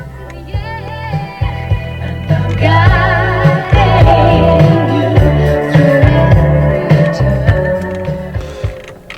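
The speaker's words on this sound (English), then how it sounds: "It's got a good stereo on this. Let's have a bit of a listen to that. I'll turn her up." Music from the stereo of a Peugeot 308 GT Wagon, played loud in the cabin with a strong bass beat and melody running throughout, no talking over it.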